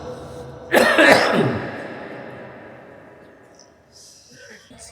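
A single harsh cough, or a throat clearing, bursts out close and fairly loud from a man with a lingering cough, then fades into quiet room tone.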